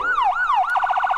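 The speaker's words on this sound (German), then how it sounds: "Oh, ich finde diese Sirene so geil." Emergency vehicle siren in the Emergency 4 video game, a loud wailing tone that rises and falls in slow sweeps, then switches to a rapid yelping warble.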